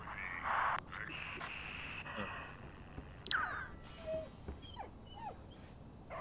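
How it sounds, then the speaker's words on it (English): A dog whimpering and yipping in the game Oxenfree II: Lost Signals, a series of short high whines and cries over a faint background hum, close and fairly clear. "Oh my god. Dog."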